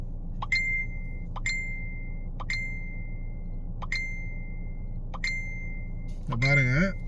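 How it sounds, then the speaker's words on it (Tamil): Five bright Messenger message notification chimes arrive at evenly spaced intervals, clear and close over a quiet room hum, followed by a brief burst of warbling electronic tone at the end. "பாருங்க மெசேஜ் வந்துகிட்டு இருக்குது, சரியா?"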